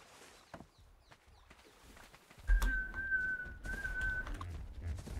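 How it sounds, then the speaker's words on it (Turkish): A character in the game ARK: Survival Evolved whistles one steady, level note lasting under two seconds, over soft rustling and footstep-like noise. "ıslık çalıyor."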